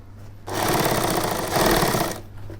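An electric sewing machine stitches a shirt collar in one close, loud burst of rapid needle chatter lasting nearly two seconds, starting and stopping sharply against a faint hum.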